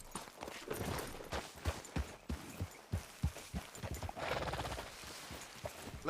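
A horse's hooves clop along at a walk in the video game Red Dead Redemption 2. The uneven thuds are close and moderately loud, over a rustling outdoor background with a brief whinny-like swell midway.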